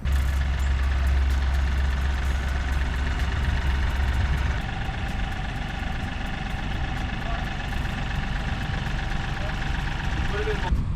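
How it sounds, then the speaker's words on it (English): A Kioti DK4510 tractor engine runs steadily nearby with a low, continuous rumble and mechanical clatter throughout, and the low drone eases slightly partway through. "Would you like to drive the tractor over there?"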